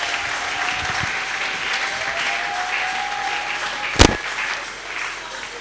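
A church congregation at a French-language service breaks into warm, sustained applause that holds steady for several seconds, punctuated near the end by a single sharp, loud knock or bang.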